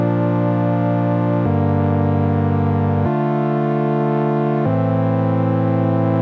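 Four sustained Serum synth chords with a filter, each held about a second and a half before switching, loud, steady and rich in harmonics, played alone with no voice.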